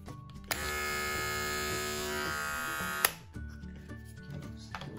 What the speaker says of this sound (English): clippers. Fresh out the box, nice and quiet.